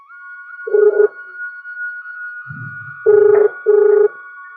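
A telephone ring-back tone on an outgoing call, a steady high line with three loud burring rings, each about a third of a second long, the first alone and the last two close together, and a brief low murmur between them.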